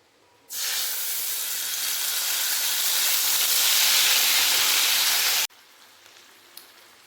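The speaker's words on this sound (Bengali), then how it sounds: "আদা কাঁচা লঙ্কা তেলের মধ্যে ভেজে নিয়েছি" Ginger and green chili paste dropped into hot oil, a loud steady sizzle that bursts in abruptly, holds for about five seconds and cuts off sharply, with faint kitchen noise after.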